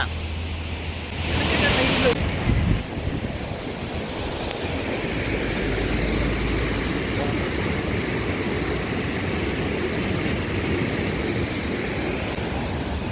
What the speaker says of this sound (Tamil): தண்ணி எவ்வளோ வேகம் ஓடிக்கிட்டு இருக்கு பாருங்கள்